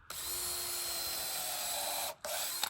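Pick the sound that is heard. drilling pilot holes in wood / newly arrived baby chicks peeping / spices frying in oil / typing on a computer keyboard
drilling pilot holes in wood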